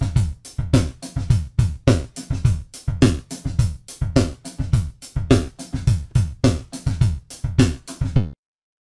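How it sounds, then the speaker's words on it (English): A drum loop processed through an Eventide Physion Mark II, with a very short tap delay on the transient hits and tremolo on the tonal part. It plays as a steady, evenly pulsing rhythmic pattern, loud and alone, stopping abruptly near the end. "It's got a tap delay on the transient effects, a very short tap delay, and then it's got a tremolo on the tonal part"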